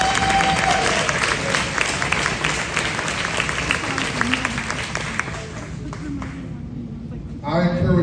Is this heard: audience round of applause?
yes